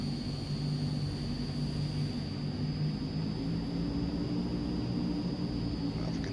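A steady, unbroken engine drone from an Azurpoly C160 Transall twin-turboprop model aircraft while taxiing, holding constant loudness with a thin high whine riding over the rumble.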